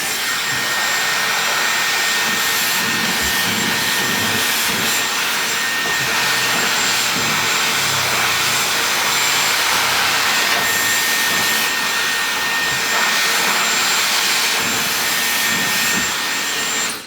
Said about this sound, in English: And I'm going to blow dry the hair so it's just almost dry.